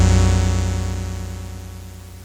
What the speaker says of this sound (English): What you are hearing is the voltage controlled oscillator